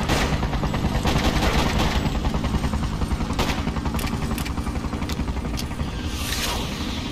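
Gunfire rattles through a battle in the PC game Freedom Fighters, with loud bursts of automatic fire and scattered shots over a dense background of combat noise, continuing throughout without pause.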